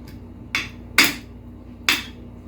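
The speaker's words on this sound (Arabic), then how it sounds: "نقعد نقلب بقى عشان نخلطهم" A utensil stirs grated potatoes with egg and pastrami in a pan, giving three sharp, spaced metallic knocks against the pan over a quiet background.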